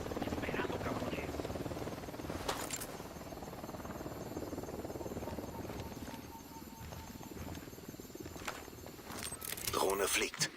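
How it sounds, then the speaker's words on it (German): A drone hums in Ghost Recon, a continuous buzzing rotor drone held at mid distance under people talking, with some scattered footsteps and clatter. "Drohne fliegt."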